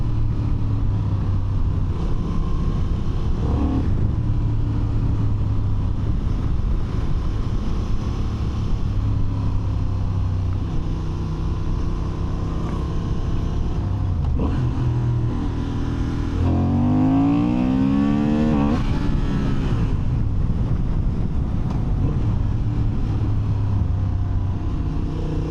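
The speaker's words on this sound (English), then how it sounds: "I feel like sport mode has a little bit more intake noise, a little growlier." A 2025 Honda CB750 Hornet ridden in sport mode gives a continuous growling engine and intake drone under rushing wind, with revs swelling and a noticeable rise and shift in engine pitch partway through.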